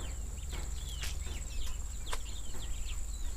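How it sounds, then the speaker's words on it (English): Guinea hens and chickens call and cluck in scattered, sharp chirps over a constant low background rumble, at moderate distance. "Got some guinea hens."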